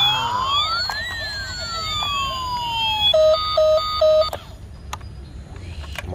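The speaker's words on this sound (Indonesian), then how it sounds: "Wow, ada mobil ambulan teman-teman." Toy ambulance siren wailing close and loud, sweeping up and down, then switching to a quick repeating yelp before cutting off, no talking.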